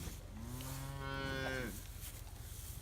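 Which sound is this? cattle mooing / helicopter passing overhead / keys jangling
cattle mooing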